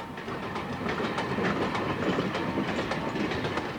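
A train running at the Midland Railway Centre goods gala near Ripley, Derbyshire, a steady rolling rumble with repeated clickety-clack wheel beats, fairly close and continuous, with no voices.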